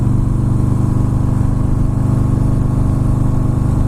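A Harley-Davidson Fat Boy S motorcycle engine runs with a steady, loud, close low rumble throughout and no speech.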